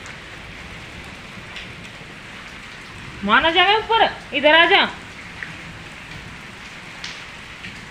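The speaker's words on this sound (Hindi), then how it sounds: "आज अष्टमी वाले दिन देख लो बारिश कितनी धमाकेदार होगी" Heavy rain falls in a continuous, even hiss, with a short burst of speech from a nearby person in the middle.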